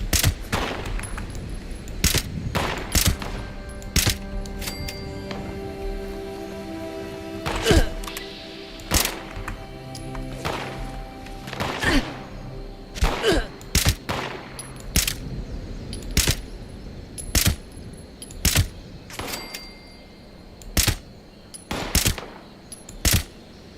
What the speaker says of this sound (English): Oh, something else shooting.